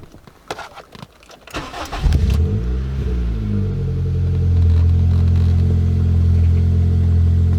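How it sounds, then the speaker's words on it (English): A high-mileage Honda Civic is cold-started after sitting a couple of days: a few sharp clicks, a brief crank, then the engine catches and settles into a loud, steady idle close by, with no voices. "it's a cold start technically. Haven't turned on the car in a couple days"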